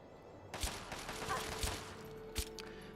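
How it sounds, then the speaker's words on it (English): Gunfire in Fallout 3, a few sharp shots cracking at a moderate distance over a quiet backdrop, with a spaced pair and a final shot, faint and brief. "where did that shooting come from?"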